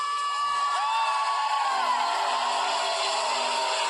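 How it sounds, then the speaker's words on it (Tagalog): Dense crowd noise at a PDP Laban political rally at a resort in Kalamba, with cheering, whoops and shouting rising over a steady roar; clapping is not distinct within the noise, and voices carry across it. "Isang malakas na palakpak naman dyan!"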